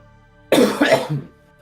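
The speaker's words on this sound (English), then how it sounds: "sorry about this coughing" A person gives a sudden, close cough followed by a couple of rougher, throaty coughs, then quiet.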